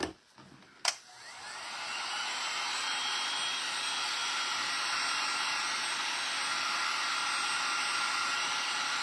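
A hair dryer blowing on wet paint on a gingerbread trivet: after a couple of sharp clicks it switches on and runs as a steady, loud, close whoosh.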